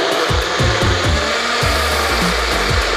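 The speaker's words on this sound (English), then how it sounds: "Now we're gonna put it on the blender" A blender grinds a mango and spinach smoothie: a loud, steady whirring roar with rhythmic low thumps as the contents churn, and no voices.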